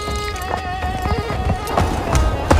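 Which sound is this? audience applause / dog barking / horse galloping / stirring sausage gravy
horse galloping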